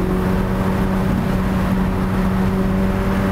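A 710 hp Ferrari F8 Spider engine holds a loud, steady, droning roar throughout, with strong sustained tones and no voices.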